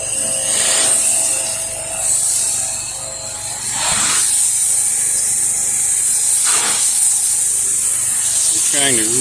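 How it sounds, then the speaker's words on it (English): Loud, steady hiss of a pressure washer spraying soap on a patio, with brief pauses and shifts in tone as the stream moves across surfaces. "Trying to really pay attention to where I'm spraying this soap."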